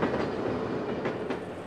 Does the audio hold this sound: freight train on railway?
yes